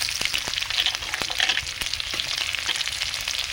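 Chopped onions sizzle steadily in hot mustard oil seasoned with whole cumin, a close, continuous crackling hiss dotted with sharp pops and spits, with no voices.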